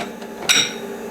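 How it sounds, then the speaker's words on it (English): A drill chuck clunks into the spindle of a milling machine as it is fitted for drilling a 3 mm metric screw hole, giving one sharp metallic knock after a faint tap. "So I got to put my drill chuck in there."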